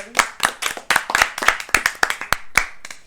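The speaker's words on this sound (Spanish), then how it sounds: "Un aplauso," Two podcast hosts clap their hands in a quick, uneven run of sharp, close claps lasting a few seconds, with no talking over them.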